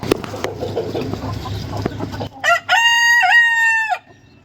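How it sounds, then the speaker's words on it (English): Hens cluck and scratch nearby for a couple of seconds, then a rooster lets out one loud, long crow close by. "Chickens."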